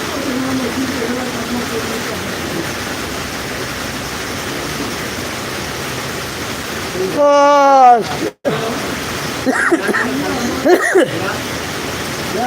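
A constant roar of heavy rainfall runs throughout, loud and even, broken briefly by a nearby voice and a couple of short knocks partway through.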